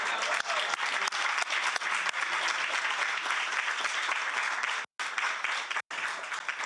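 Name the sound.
audience applause at a conference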